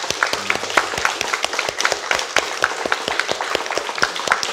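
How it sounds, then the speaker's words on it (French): A live audience at a student eloquence contest applauds the technical team, a dense, steady wash of many hands clapping that fills the room with no talk over it. "avec toute l'équipe technique que l'on peut aussi applaudir."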